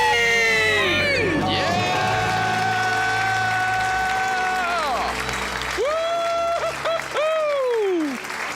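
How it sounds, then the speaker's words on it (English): A studio audience shouting a loud, long debt-free scream together, with cheering and applause that swell and fade over several seconds. "Let's hear a debt-free scream."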